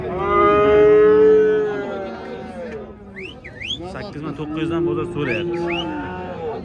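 Cattle at a livestock market in Kitob low out in long, loud drawn moos, one after another, while people talk and bargain nearby.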